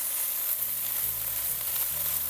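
Teriyaki chicken with a few drops of piri piri sauce is stirred in a frying pan, giving a steady, close sizzle with soft scraping from the mixing and no talking.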